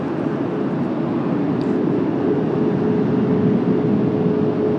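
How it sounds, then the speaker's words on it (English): Airbus A340-600 arriving at Washington Dulles on a cloudy day, a loud, continuous jet rumble with a faint steady whine running through it, unbroken for the whole stretch. "a nice shot and arrival of the Airbus A340-600"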